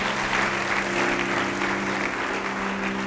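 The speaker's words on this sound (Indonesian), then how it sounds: "Yang mau beri tepuk tangan bagi dia." A church congregation bursts into steady, sustained applause during a sermon, a dense roomful of clapping hands continuing evenly throughout with a faint hum underneath.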